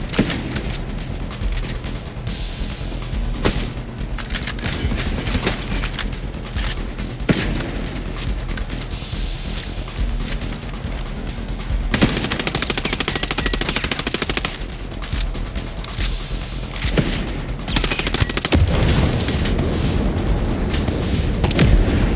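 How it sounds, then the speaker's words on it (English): Sustained automatic gunfire and explosions in the video game Ghost Recon Breakpoint, a dense loud barrage of rapid shots and booms running almost continuously with no pauses. "Keep firing."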